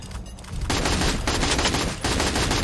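Heavy, sustained automatic gunfire in the battle royale game Free Fire comes in dense, close volleys, broken by a short gap near the start and a brief drop near the end.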